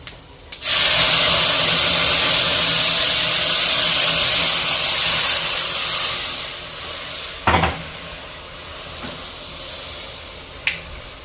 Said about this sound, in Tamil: லேசாக நிலக்கடலையோட கலர் மாறும்போது நம்ம கரைச்சி வச்சுட்ட புளி ஜலத்தை விட்டுக்கலாம்.